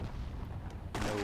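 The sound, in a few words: RPG barrage in Myth II Soulblighter video game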